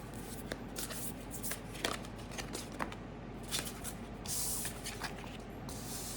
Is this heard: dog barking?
no